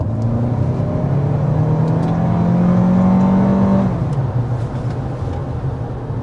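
A 2026 Lexus ES 350 hybrid engine hums and rises steadily in pitch as it accelerates uphill, then eases off, loud and close throughout.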